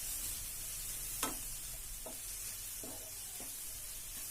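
Bitter gourd fries with onion masala over a low flame in a soft, steady sizzle, punctuated by a few light clicks and taps of a spoon stirring in the pan.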